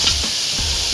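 Onion and cabbage sizzle and hiss in a hot pan while being stirred, a steady close frying noise with faint scraping pulses.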